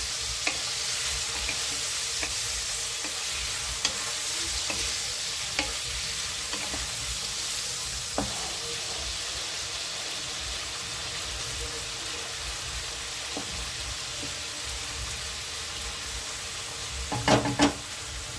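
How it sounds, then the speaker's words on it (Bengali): Prawns sizzle steadily in a frying pan and are turned over to cook the other side; a loud, continuous hiss runs throughout with scattered light clicks and a brief clatter of the flip near the end. "চিংড়ি মাছের একটা সাইড ভাজা হয়ে গেছে, অন্য সাইডটা ভাজার জন্য উল্টে দিচ্ছি।"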